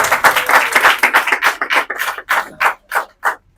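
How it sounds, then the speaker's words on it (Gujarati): A small group claps for runners finishing a timed race, at first fast and overlapping, then thinning into a few loud, distinct, evenly spaced claps that trail off, close by. "જોરદાર તાળી"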